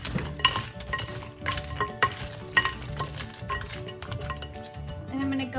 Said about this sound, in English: Better stir this all up.